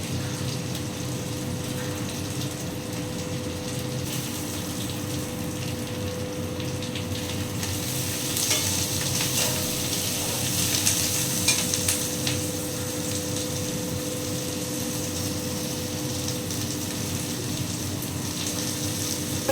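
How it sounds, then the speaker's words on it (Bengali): Curry leaves fry in a pan with a steady, continuous sizzle that swells briefly midway, then settles back to an even hiss. "কারি পাতাগুলো দিয়ে দিলাম, আবার এটা একটু ভেজে নেবো"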